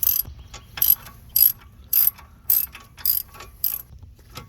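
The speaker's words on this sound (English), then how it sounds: "you can just kind of use your ratchet to get them to go" A hand ratchet clicks in about seven evenly spaced bursts, each quick series of pawl clicks standing out clearly over a low rumble, as bolts are tightened on the front strut of a 2012-2018 Nissan Altima.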